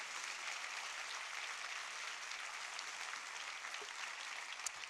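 A church congregation applauds during a sermon, steady sustained clapping that fills the space evenly for several seconds at moderate distance, with no voice over it.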